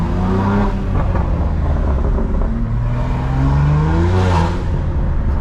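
A BMW M3 G80 with a very loud, illegal aftermarket exhaust roars continuously on a late-night drive, engine note climbing and falling through gears as it revs hard, heard up close from inside with no talk.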